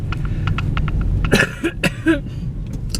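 Several sharp coughs burst out up close after a stretch of low background noise, irregular and throaty.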